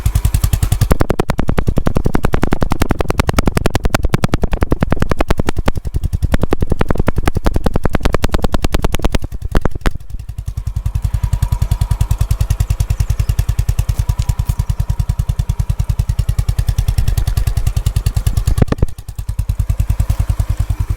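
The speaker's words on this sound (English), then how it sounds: "The sound of the CB350 RS, man, that's music. Raw sound, thump." A Honda CB350 RS motorcycle engine thumps loudly and up close in a rapid, steady beat, dipping briefly partway through before settling back into a thudding idle-like rhythm.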